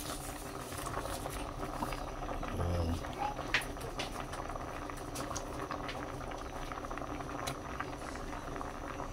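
Milkfish added to a pot of already salted boiling water during home cooking, a constant bubbling churn with a low thump and splash as the fish goes in, scattered clicks throughout.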